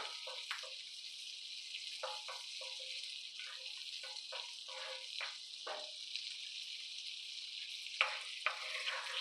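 A couple tablespoons of butter melting in a pan while making sausage gravy, giving a steady soft sizzle with scattered crackles and a few light clinks of utensils, moderately close and without talk.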